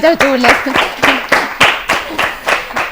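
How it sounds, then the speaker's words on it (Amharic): A studio audience at an Ethiopian children's TV competition claps in rhythmic unison, about four sharp beats a second, close and loud, with a voice speaking briefly at the start. "እስቲ አጨብጭቡለት።"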